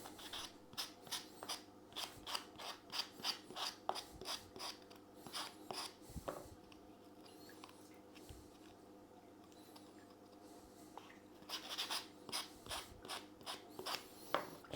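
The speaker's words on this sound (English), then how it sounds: "we're going to use some sandpaper to sort of make edges not so" Sandpaper sanding the cut edges of a pipe piece for DIY pleco caves makes a quiet, rhythmic scratching rasp in quick repeated strokes, pausing for several seconds in the middle before the strokes resume.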